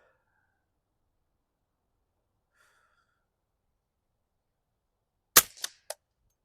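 Subsonic .22LR rifle shots fired at an aluminum foil and cardboard target: a near silent stretch, then three sharp cracks in quick succession, the first loudest, with no talk.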